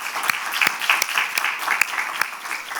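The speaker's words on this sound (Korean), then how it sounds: "은혜 주실 우리 하나님께 영광의 박수 올리겠습니다" A church congregation claps at a Thursday night worship service, a thin scattering of distinct handclaps that repeats steadily for a few seconds.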